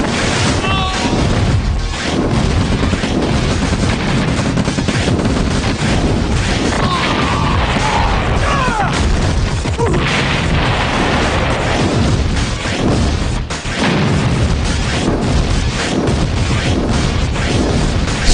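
The construction yard in Red Alert blows up amid loud, dense, continuous explosions and crashing booms that stay close and heavy throughout.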